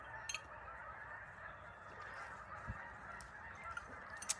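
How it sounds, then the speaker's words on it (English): Faint, distant geese honk in scattered calls over a steady outdoor background hiss, with no voices. "Geese are coming back."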